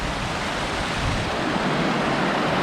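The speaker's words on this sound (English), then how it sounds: "It's a pretty big creek." Water flowing in a fairly big, clear creek near an old stonework railroad bridge, a steady broad rushing wash heard close and continuous, with no voices.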